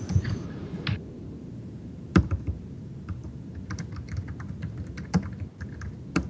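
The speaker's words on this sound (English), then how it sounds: "And it's me typing." Typing on a computer keyboard during an online classroom meeting: scattered soft key clicks with a few sharper strikes, close and moderately quiet over a low background murmur.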